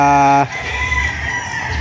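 Chickens at Tilaok Game Farm: a rooster's loud, close crow opens, clucking and farmyard noise follow, and another crow begins at the end.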